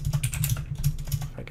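Someone types in quick, steady bursts on a computer keyboard, the close keystrokes clicking continuously for a moment without any talking.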